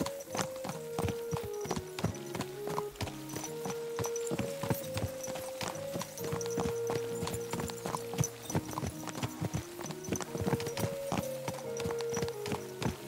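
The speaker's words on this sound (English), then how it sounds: "Watch out with that horse!" Horse hooves clip-clop in the medieval game Kingdom Come: Deliverance II, a steady rhythmic trot of clear hoof strikes over tonal music, with no talk.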